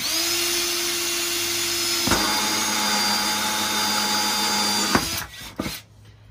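A hole saw bores a drain hole through a plastic bucket for a pond filter, the drill whining steadily with pitch shifts as it cuts, then a few short bursts before it winds down and stops.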